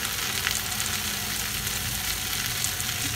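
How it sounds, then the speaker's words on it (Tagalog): Fresh tomato sautéing in a pan for Filipino menudo, a dense continuous sizzle with faint crackles, steady and close with no voices. "Gusto kong gamitin ay fresh tomato. Gisa lang po natin siya ng maayos."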